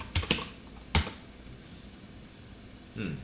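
Several sharp keystrokes on a computer keyboard in a quiet room, a quick cluster near the start, one more a moment later and a softer burst at the end.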